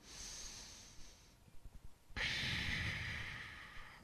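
Slow, deep breathing during a yoga exercise, a long drawn inhale, a brief pause with a few small catches, then a full, steady exhale, close and quiet with no talking.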